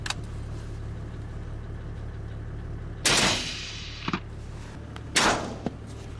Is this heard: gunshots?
yes